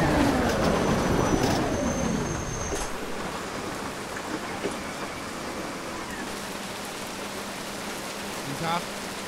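Steady rain hisses loudly on surfaces around a crowded Romanian boarding area, a continuous wash of patter with a passing vehicle rumble at the start and occasional voices underneath.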